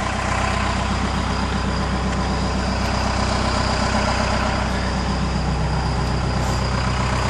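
Ford F150 pickup engine idling after a heater core replacement, a continuous loud low rumble with a steady hum, unbroken and with no voices.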